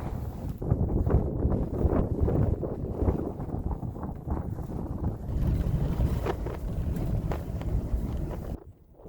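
Cold winter wind blusters steadily across an open snowy landscape, a loud broadband rush with gusting swells that drops away abruptly at the end.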